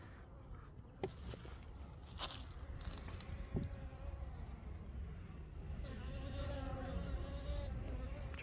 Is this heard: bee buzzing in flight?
yes